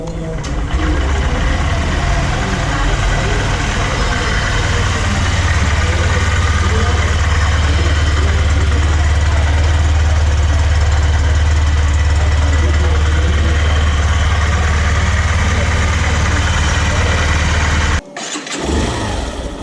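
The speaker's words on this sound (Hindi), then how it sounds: "चलिए अब दोनों बाइक की ही एग्जॉस्ट साउंड थोड़ी सी सुन लेते हैं।" A Honda Shine 125 and a Hero Glamour BS6 motorcycle run with a loud, steady exhaust idle close by, a continuous engine note that cuts off abruptly near the end.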